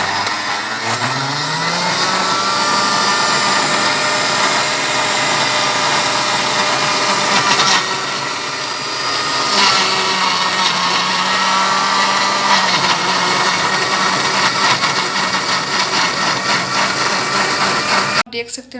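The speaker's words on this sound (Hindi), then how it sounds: "अब हम इसको अच्छे से ग्राइंड कर लेंगे।" A juicer grinder machine blends tomato chutney ingredients with chilies and a little water, a loud steady motor whir running almost the whole time with brief dips in pitch as the load shifts, cut off abruptly at the end.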